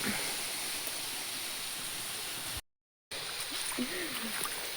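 A small trickle of water runs steadily outdoors on a farm plot, a soft continuous hiss with a brief cut in the middle and faint other sounds near the end.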